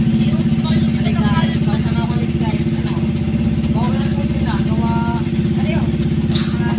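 A motorcycle engine runs close by with a steady, throbbing rumble at a constant level, and voices talk over it throughout.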